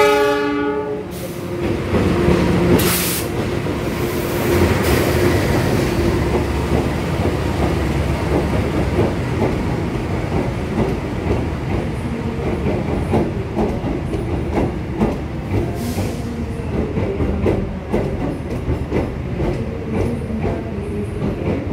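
The Lodaya passenger train pulls into Yogyakarta station, opening with loud horn blasts, then a long steady rumble of passing carriages with rhythmic wheel clatter over the rails, close and sustained.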